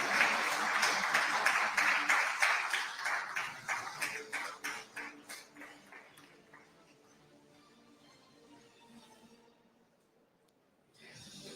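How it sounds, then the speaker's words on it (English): Audience clapping at a business conference, loud rhythmic applause that fades out over several seconds into near silence before a voice speaks. "You don't need to stop clapping"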